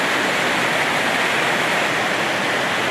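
Heavy rain pours in a dense, even, loud hiss, unbroken and steady throughout, with no voices over it.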